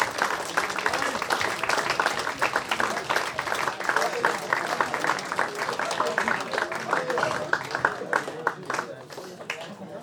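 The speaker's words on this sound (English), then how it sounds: "let's give everyone a round of applause for what they've done the rest." A crowd at an amateur rugby league club's open-age and under-18s awards evening gives a sustained round of applause, dense close clapping that continues for about ten seconds with voices mixed in before tapering off.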